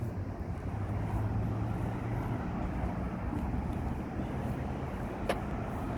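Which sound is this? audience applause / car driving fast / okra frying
car driving fast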